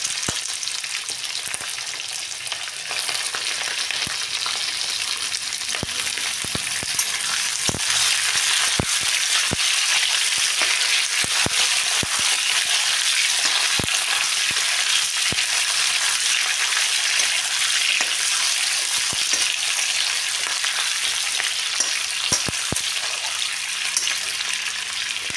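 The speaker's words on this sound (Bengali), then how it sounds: "একসাথেই দিয়ে একটু ভাজা ভাজা করে নেবো।" Onion and capsicum fry together in a hot pan, giving a steady, close sizzle throughout, broken by scattered sharp clicks and scrapes from stirring.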